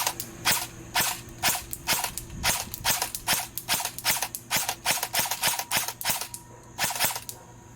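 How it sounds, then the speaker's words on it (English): Airsoft gun with an upgraded inner barrel firing about twenty sharp, close shots in a fairly regular rhythm, each a crisp snap with a faint mechanical click, outdoors with no talking. "A few more shots."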